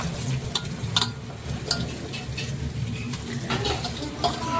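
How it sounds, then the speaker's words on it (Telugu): Grated raw mango being stirred into rice in a hot oiled pan, with soft scraping strokes and light sizzling at a steady, close, quiet level. "మొత్తం వేసుకొని మంచిగా కలుపుకుంటే కొంచెం మెత్త పడేదాకా కలుపుకోవాలి ఫ్రెండ్స్"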